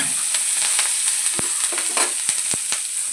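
Green chillies roasting in a hot pan for thecha give off a steady broadband sizzle with scattered sharp clicks and scrapes from stirring, close and continuous.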